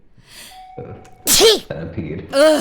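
Two sharp, close sneezes burst out about a second apart, with a brief exclamation and groan from the same voice between them.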